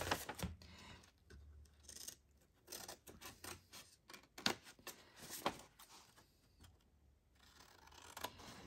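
Scissors snip through paper cut into a rectangle for a handmade envelope, giving a close, quiet series of irregular crisp cuts and rustles with pauses between them and no speech.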